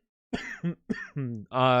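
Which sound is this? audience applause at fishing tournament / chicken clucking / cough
cough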